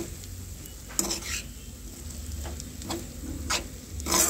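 Cabbage and potato fry with turmeric and salt stirred in a pan: a low steady sizzle broken by several sharp spatula scrapes and clinks against the pan, close and without talk.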